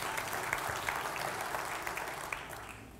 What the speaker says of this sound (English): you need to be applauding for her, because she's been married to me for 35 years